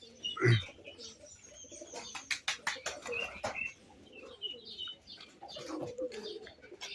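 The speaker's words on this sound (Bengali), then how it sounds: "তো মোটামুটি আমার যে কবুতরগুলো এখন আছে এখানে" Domestic pigeons, including high flyer, Golla and Teddy breeds, coo and chirp nearby in an irregular run, with a louder burst near the start and a quick series of sharp calls in the middle.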